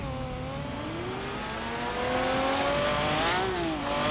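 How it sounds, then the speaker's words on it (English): Race car engines in a video game droning and revving steadily, pitch rising and dipping as they accelerate, a continuous loud motor sound with no talking. "About cars, they are very loud."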